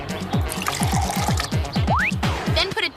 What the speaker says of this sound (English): Just add a half a cup of vinegar to a half a cup of water.